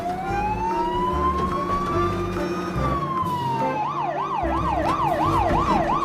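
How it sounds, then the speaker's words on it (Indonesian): A toy fire truck's electronic siren plays loud and steady, first a rising-falling wail, then a fast warbling yelp that cycles rapidly, with a buzzy electronic tone underneath and no talk. "lihat ini teman-teman, ada truk pemadam kebakaran."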